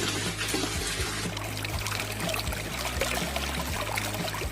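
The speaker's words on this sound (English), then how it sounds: "Water flows perfectly through the pipes" Water running steadily through newly installed plumbing pipes at a mountain house build, a continuous close pouring and trickling wash with a low steady hum underneath and no talk.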